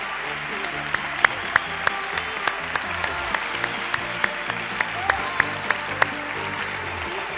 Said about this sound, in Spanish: me encantaría para ella un fuerte aplauso,